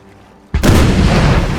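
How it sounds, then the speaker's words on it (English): Broadside cannon fire from warships in a Napoleon: Total War naval battle, a sudden loud booming onset after near silence, then a sustained rumbling roar of overlapping volleys. "firing volleys, or broadsides I should say. 2 broadsides fired from both the bigger ships straight onto the lead ship"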